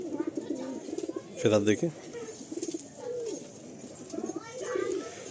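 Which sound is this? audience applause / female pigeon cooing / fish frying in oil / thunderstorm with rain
female pigeon cooing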